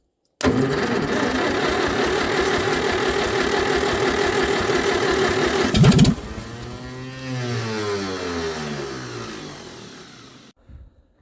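A 1949 Farmall M tractor engine cranking and catching on starting fluid: a steady rapid chugging run of firing pulses for several seconds, then a sharp change into a rougher, wavering sputter that dies away, loud and close.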